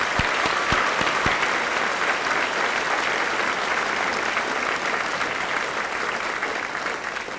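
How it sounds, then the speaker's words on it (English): A large crowd at a high school senior assembly applauds valedictorians, a loud, sustained roar of clapping with a few distinct claps at the start that hold steady before easing slightly at the end. "Let's give our valedictorians a nice round of applause."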